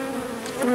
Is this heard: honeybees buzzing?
yes